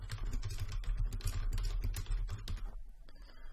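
Rapid, steady clicking of keys on a computer keyboard, close and continuous, easing off briefly near the end.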